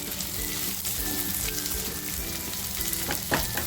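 Misal masala fries in a pan with a dense, steady crackling sizzle, close and fairly loud, with occasional stirring scrapes and no voices.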